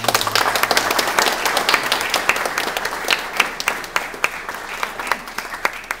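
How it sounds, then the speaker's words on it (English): Hall of fame audience applauding an honoree, a steady mass of clapping with distinct sharp claps standing out, fairly close and continuing throughout. "Let's give a round of applause for Bill."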